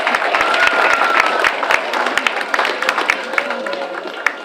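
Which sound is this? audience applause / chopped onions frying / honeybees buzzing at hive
audience applause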